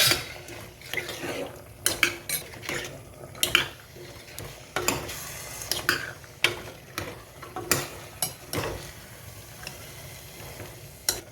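Overnight-soaked kabuli chickpeas are stirred in a pan, giving repeated close scraping and clacking strokes in an uneven rhythm over a soft sizzle, with no talking.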